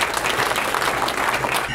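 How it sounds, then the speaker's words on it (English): Studio audience applauding a couple on a live show, a dense, steady wash of clapping from many hands, loud and continuous throughout. "Small round of applause for these two people."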